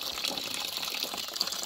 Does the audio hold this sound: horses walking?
no